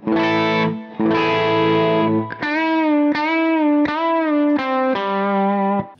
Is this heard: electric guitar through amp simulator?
yes